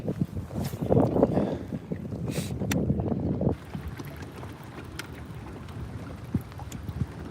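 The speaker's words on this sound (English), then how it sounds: "the wind is kind of picking up and it's blowing right into this cove" Wind blowing straight into a lake cove while bass fishing from a boat, a steady rumbling buffet against the microphone that is stronger at first and then eases to a lower, even rush.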